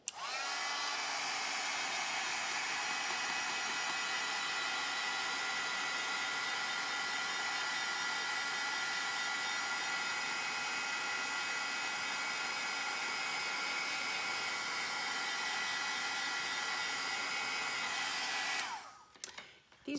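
A heat tool dries Distress Oxide ink and Stickles glitter gel on a handmade card, giving a long, steady, close whoosh that cuts off near the end with a few clicks and rustles.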